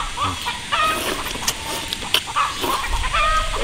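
Hens clucking in short, irregular bursts at close range, with scattered squawks over a steady farmyard background.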